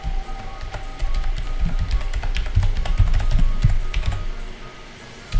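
Fingers typing on a computer keyboard while filling in a web form, quick irregular clusters of close key taps with brief pauses between bursts.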